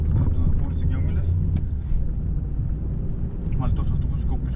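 A bus passes very close by on Geo Milev street, heard from inside a car as a loud, heavy low rumble that fills the whole stretch, with faint muffled voice sounds mixed in.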